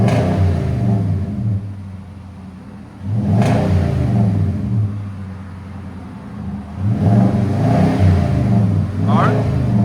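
Nissan Titan 5.6L V8 pickup truck with an aftermarket exhaust, engine revved repeatedly in a shop, deep rumbling surges rising and settling in loud bursts, with voices talking underneath.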